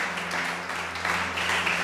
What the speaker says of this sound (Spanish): Si lo crees, dale ese aplauso grande.